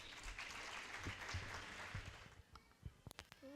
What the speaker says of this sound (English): please make applause for Vishwa and Reyansh